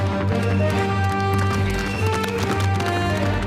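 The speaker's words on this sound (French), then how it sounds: "Ma momie, sur un cheval." A horse gallops in a Lucky Luke cartoon, with rapid hoofbeats over a loud, busy musical score, continuous and close, and no talking.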